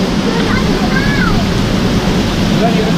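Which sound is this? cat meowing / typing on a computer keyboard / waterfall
waterfall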